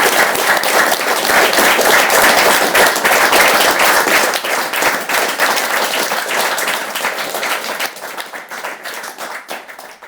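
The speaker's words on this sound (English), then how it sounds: "I'd like you all to give a massive round of applause" A large audience applauds loudly at the close of an evening event, a dense roar of clapping that holds steady, then thins and fades over the last few seconds.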